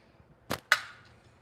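A wooden slingshot with light bands fires twice in quick succession: a sharp snap followed by a brighter crack with a brief ringing tail, close and otherwise quiet.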